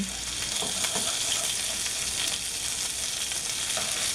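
Keto chicken piccata fries in a hot pan, a dense, even sizzle with crackling spatters that runs unbroken throughout, no one talking.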